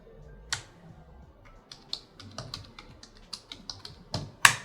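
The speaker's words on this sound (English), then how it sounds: "We'll enter the email and the password." Email and password are typed on a computer keyboard, a sparse run of light, irregular key clicks with a louder final keystroke, close and quiet with no talking.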